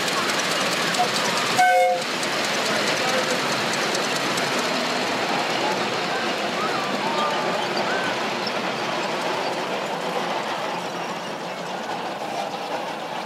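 Miniature steam locomotive running on a raised club track in New Zealand, a continuous rumbling, clattering run with a brief whistle toot near the start, close and steady throughout.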